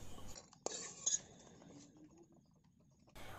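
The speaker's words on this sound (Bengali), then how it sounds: "এবার আমি একটা প্লেটে তুলে নিচ্ছি।" Roasted peanuts scraped out of a wok onto a plate, a few metallic clinks and a scraping rattle of the spoon against the pan, close and fairly quiet, with no talk.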